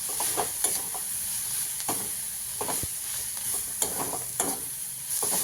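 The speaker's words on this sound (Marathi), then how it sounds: "सगळं असं एकजीव करायचं सगळं चांगली हलवायची" Cooked vegetables being stirred and mixed in a pan, with repeated scraping strokes of a spoon over a steady close sizzle, no voices.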